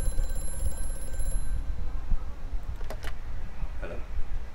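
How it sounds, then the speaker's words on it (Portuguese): A telephone rings in the horror game Amnesia: A Machine for Pigs, with a few short tonal bursts heard over a steady low rumble of ambient drone. "Tocando o telefone?"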